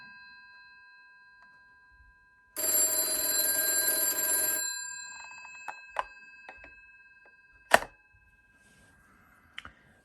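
A loud, harsh bell from a 1987 British Telecom Venue 24E desk telephone rings in one continuous burst of about two seconds, followed by quiet clicks and a few sharp knocks.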